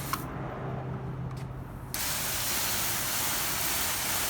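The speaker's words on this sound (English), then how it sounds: "so I'm going to just go ahead and rinse it off." Water sprays against a car during a rinse, a faint hiss that jumps to a broad, steady rush about halfway through and continues unbroken.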